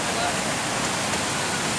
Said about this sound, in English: This, we call her Cachoeiras Falls.